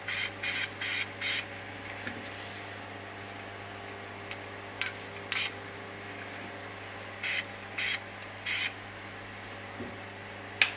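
Short hissing bursts from a spray can laying wrinkle black paint onto an engine valve cover, in quick clusters separated by pauses, faint over a steady background hum.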